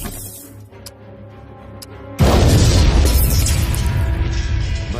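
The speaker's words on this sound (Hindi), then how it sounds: "भयंकर विस्फोट हुआ" A huge explosion rips through a genetics laboratory in a film scene, a sudden loud boom after a quieter stretch that gives way to a sustained roaring blast and rumble.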